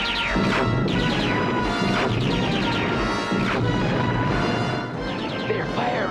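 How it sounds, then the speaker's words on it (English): Weapon fire, crashes and explosions in a Transformers cartoon battle during a Decepticon ambush, with repeated laser-like zaps and impacts over a dense, loud, continuous roar. "They're firing on us. It's a Decepticon ambush."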